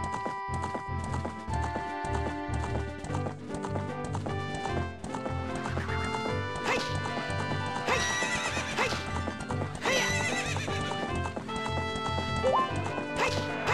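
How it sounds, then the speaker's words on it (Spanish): A horse in the video game Zelda Ocarina of Time neighs and gallops with rapid hoofbeats, all over steady, busy in-game music. "¡Ah, caballo culiao!"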